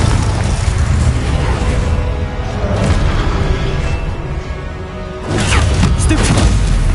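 Confringo fire spell explosions from Hogwarts Legacy, booming blasts layered over continuous dense game combat noise, with a sharp burst near the end.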